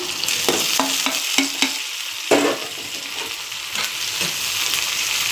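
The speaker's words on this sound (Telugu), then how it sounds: "ఉల్లిపాయలు మగ్గిన తర్వాత కొంచెం టమాటాలు వేసేస్తాం" Tomatoes tossed into onions already frying in a curry pan, a loud continuous sizzle broken by several sharp clacks and scrapes of a spoon stirring against the pan.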